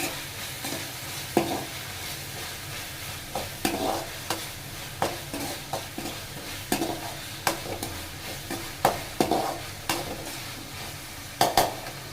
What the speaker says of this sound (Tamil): நல்லா வதங்கணும் தக்காளி